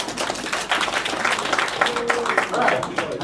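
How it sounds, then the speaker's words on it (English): Audience members at a Concord College alumni event break into dense, sustained applause, the rapid claps blending with voices. "Give that a round of applause again, guys."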